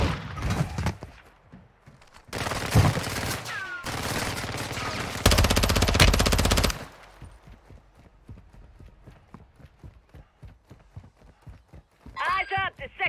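Video game gunfire crackles in dense automatic bursts, loud and close, with several sustained volleys in the first half before thinning into scattered faint pops under soldiers' radio chatter.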